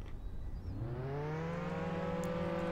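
A car engine in Roblox Jailbreak runs steadily, its pitch rising as it accelerates and then holding a sustained drone, loud and close with no talking.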